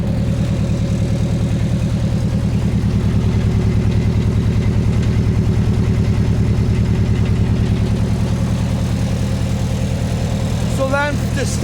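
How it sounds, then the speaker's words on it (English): A tractor engine runs steadily at half throttle, a loud, even low chugging drone held for the whole stretch before a brief whine near the end. "we're going to just essentially run it at half throttle"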